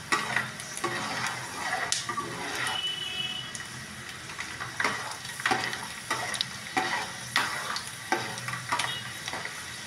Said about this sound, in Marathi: लसूण आणि शेंगदाणे चांगले तळून घ्यायचे